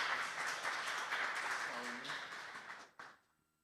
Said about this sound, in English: Everybody give Yvonne a round of applause